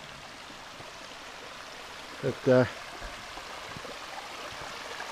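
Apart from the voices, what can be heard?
river flowing at a campground crossing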